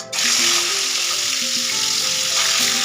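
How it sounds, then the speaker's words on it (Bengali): Steady, loud sizzling of fish frying in hot oil in a wok, continuous crackle with no talking. "মাছগুলো আমি এখানে ভাজতে দিয়ে দিলাম, মাছগুলো ভাজা হয়ে যাক"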